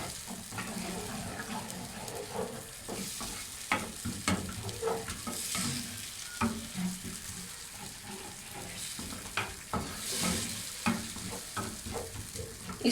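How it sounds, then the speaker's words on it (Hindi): Thick curd is stirred through a bhindi masala mixture of okra, tomato and spices in a pan over a low flame, with close, repeated scraping and stirring strokes over a soft, steady sizzle and no one speaking. "इस दही को इस मिक्सचर के साथ अच्छी तरह मिक्स करेंगे।"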